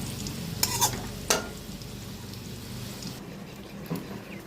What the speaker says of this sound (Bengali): আর এদিকে আলু ভাজতেছি, লাল লাল হয়ে গেছে